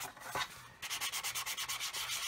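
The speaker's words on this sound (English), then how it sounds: "I'm just wondering if I get a fine sanding sponge and just rub over the top." A fine, soft sanding sponge rubs lightly over a paint-covered mask on a scale model. After a brief scuff, it makes about a dozen quick, even back-and-forth strokes, close and quiet.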